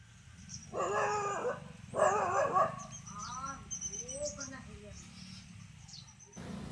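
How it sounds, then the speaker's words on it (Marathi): Farm dogs bark in two loud, close bursts, then give whining, howl-like yelps that fade, while birds chirp faintly in the open air behind them. "तर हे बघा कुत्री येतातच."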